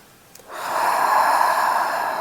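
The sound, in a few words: deep breath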